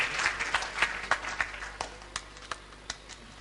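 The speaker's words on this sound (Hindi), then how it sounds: "डॉक्टर रजनीश चारण के लिए जोरदार तालियां।" Audience applause at a Hindi stage play, sparse and uneven, with individual claps standing out rather than a dense roar, fairly quiet and without speech.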